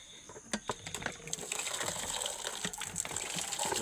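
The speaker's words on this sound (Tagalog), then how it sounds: "Huhugasan lang siya sa poso." Turmeric root being rinsed under water from a hand pump, a steady gush of running water with a few sharper splashes near the start, close and continuous.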